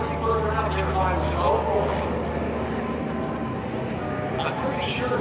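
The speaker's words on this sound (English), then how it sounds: "I feel like this airplane is doing maneuvers I've only seen in cartoons." An aerobatic airplane at the 2025 Air Power Over Hampton Roads airshow drones with a steady engine roar at moderate distance, continuous under people talking nearby.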